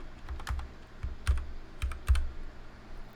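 A computer keyboard is typed on in short, irregular bursts of close, crisp key clicks, each with a dull thump, separated by brief pauses.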